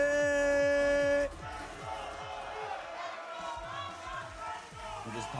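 Esports crowd shouting and cheering at the Tekken World Tour Finals in Malmo, Sweden: a steady roar of yells and whoops from a large arena audience follows a short electronic tone.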